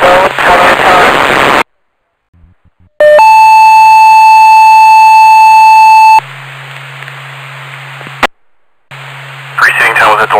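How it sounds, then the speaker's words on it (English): A fire department alarm tone comes through a radio scanner, a loud steady electronic tone held for several seconds between bursts of static and squelch, with dispatcher voices on the channel. "Preceding tone with a delay test of the Mount Vernon fire alarm."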